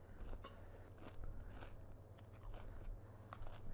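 Puffed pork scratchings are bitten and crunched close to a microphone, making a steady run of dry crackly crunches and chewing with small sharp snaps, fairly quiet, with no speech over it.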